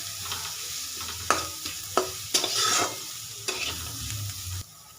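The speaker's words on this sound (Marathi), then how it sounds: "आपण शेंगदाणे हिरवी मिरची जी बारीक करून घेतली होती ना ती पण तेलामध्येच घालून घेणार आहोत।" Peanuts and chopped green chili sautéing in hot oil, with a close, steady sizzle and repeated sharp scrapes and clicks of a spatula stirring against the pan, without any voices.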